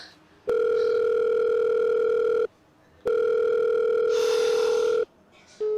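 A telephone call failing to connect: two long steady electronic tones separated by a short gap, then the start of a third beep, with a faint noisy burst over the second tone.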